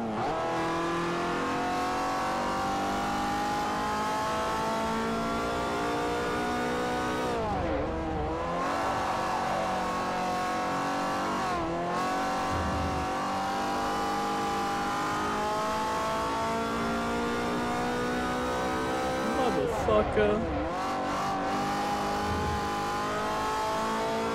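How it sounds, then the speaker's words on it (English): Class C race car in Forza Motorsport 4 revving hard on a European circuit, a loud sustained engine whine rising through the revs with a couple of sharp drops at gear shifts, steady and close throughout. "absolutely revving the ass off this car right now"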